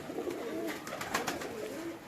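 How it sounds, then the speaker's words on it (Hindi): A bred golden pigeon coos in soft, repeated throaty rolls close by, with faint rustling and ambient noise around it. "ये बनाया हुआ कबूतर है इनका, और ये भी गोल्डन कबूतर ही कह लें आप इसको"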